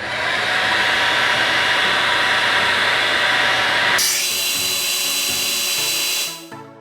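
A heat gun or hair dryer warms double-sided tape on a paddle shifter extender for a Mercedes C63 AMG, a steady broadband blowing roar that shifts to a lower setting partway through and then cuts off, with no talking.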